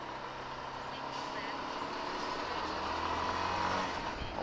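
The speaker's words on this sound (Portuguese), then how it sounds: "Tem um caminhão ali." A truck on a road during a group ride out toward Extrema, Minas Gerais, rumbles as a steady, fairly loud engine drone that swells slightly toward the end, with a faint beeping tone in the mix.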